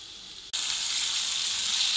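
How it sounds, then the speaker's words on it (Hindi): Chicken sizzles loudly in a karahi over high heat, the frying noise jumping up sharply as the pieces go in and then holding steady and close. "चिकन को मैंने डाल दिया है और आपने इसे तेज़ आंच पे 6 से 7 मिनट के लिए फ्राई करना है"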